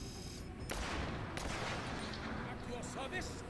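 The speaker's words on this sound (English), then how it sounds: "I don't like these snipers firing at me" Sniper and other gunfire from the tactical video game MENACE sounds as scattered sharp shots and bursts over a busy battle din, with a voice talking faintly underneath.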